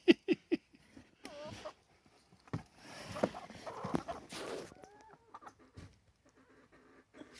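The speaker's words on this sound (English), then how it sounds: "Another Rhode Island Red." Several sharp Rhode Island Red hen clucks open the clip, followed by scattered squawks and rustling up close, with quiet stretches between the bursts.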